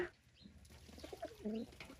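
Pigeons gather at a water dish on a rooftop to bathe on a hot day, giving soft close coos and rustling over a scatter of faint bird chirps.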